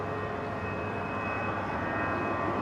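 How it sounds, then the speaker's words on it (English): A Fiji Airways Boeing 737 MAX 8 taxis out for departure at Brisbane International, its engines giving a steady, continuous jet whine and rumble, fairly close and unbroken, with no voices. "the Fiji Max 8s taxiing out for departure here"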